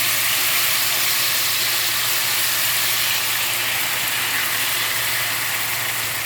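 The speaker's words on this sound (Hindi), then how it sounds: "हमारे फ्राई पैन में ऑयल गर्म हो गया, इसमें मैं ये डाल रहा हूँ।" A potato noodle mixture fries in hot oil in a pan, giving a loud, steady, even sizzle that holds without a break the whole time.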